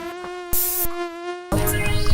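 A high, steady mosquito whine drones close up in an insecticide advert, cut by bursts of noise and a louder busy passage near the end.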